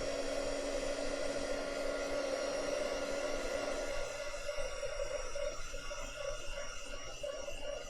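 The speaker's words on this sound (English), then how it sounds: "Let me just use a small hair dryer." A small hair dryer whirs steadily with a constant motor hum and airy hiss, close by, its tone shifting slightly partway through.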